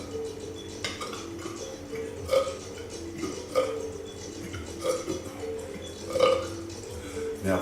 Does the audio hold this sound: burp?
yes